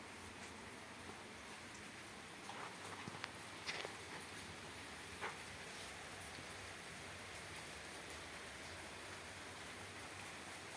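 Heavy rain pours steadily around a village house, a dense, even hiss of falling water with a few brief louder drips and splashes near the start, continuing unbroken throughout.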